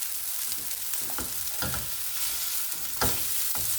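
A knife scrapes under a cheesy courgette fritter to loosen it in a hot frying pan, a series of sharp scratchy strokes over a steady sizzle, close and fairly quiet, with no talking.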